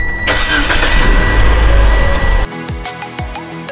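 A car engine started with a portable jump starter: a loud cranking whir runs for a couple of seconds, then the engine catches and settles into a quieter, steady idle.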